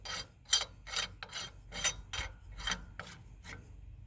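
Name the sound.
threading axle nut on by hand, semi truck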